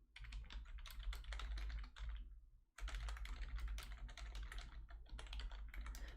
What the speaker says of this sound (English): Oh no, this keyboard is so old.